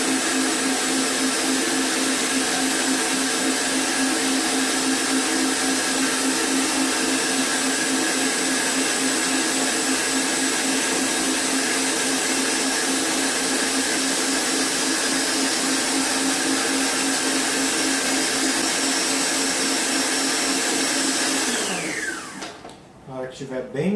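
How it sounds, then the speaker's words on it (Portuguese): Electric mixer beating a cream mixture for a low-carb, gluten-free cake, a loud steady high whir held close for about twenty seconds before it winds down and switches off. "Estiver bem misturado, a gente desliga a nossa batedeira."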